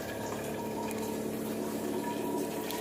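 An Enagic Kangen machine steadily pours 9.5 pH alkaline water into a bottle, producing a continuous close filling and gushing sound without talk.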